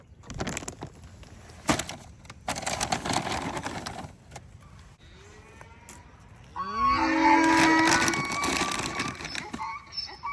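Cows on a farm moo, with one long loud low call swelling up in the second half, after shuffling and crunching noises nearby.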